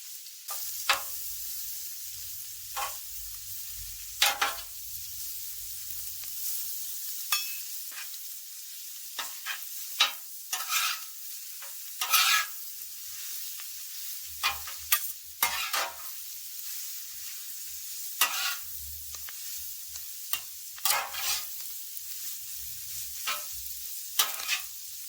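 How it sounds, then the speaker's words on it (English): Cabbage and onions stir-frying in a hot pan for shrimp and pork yakisoba, a continuous high sizzle broken by repeated sharp clacks of the utensil tossing the vegetables, close and with no talk. "Down with the cabbage and onions."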